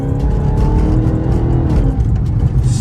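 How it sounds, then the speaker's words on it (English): A Dodge Charger Hellcat Redeye on 315 tires accelerates hard with a loud, steady engine roar that climbs through a pull and eases near the end, sustained throughout with no talk. "That was a nice little pull right there, boy."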